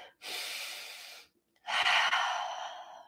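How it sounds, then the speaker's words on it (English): Two long, deep breaths drawn during a twisting yoga flow, each a broad airy rush lasting about a second, close and clear with a brief silence between them. "Take two more big breaths"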